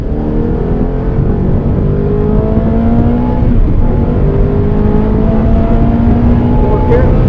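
A Fiat car's engine pulls steadily in second gear, a loud, continuous drone whose pitch climbs slowly as the car accelerates, heard from inside the car.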